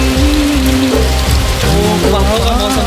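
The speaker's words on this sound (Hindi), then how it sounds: "बहुत भयानक बारिश हो रही है पहाड़ों में" Heavy rain falls in the mountains, a loud and unbroken hiss of downpour with a voice speaking over it.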